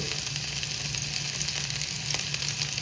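Onions frying in a pan as they are stirred, a steady close sizzle with small scraping knocks running throughout, no voices.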